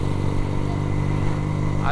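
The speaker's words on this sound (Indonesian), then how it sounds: "sekaligus memang mau ngetes motor ini kan." A restored Benelli motorcycle engine runs steadily on a test ride, a close, loud, continuous drone with a rising note near the end.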